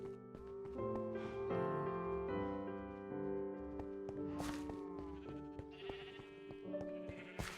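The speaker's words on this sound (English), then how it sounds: "Let's go ahead and dye a couple of these sheep." Repeated bleats from blocky Minecraft sheep on a farm, soft and intermittent over gentle background music, with light clicks of game actions scattered throughout.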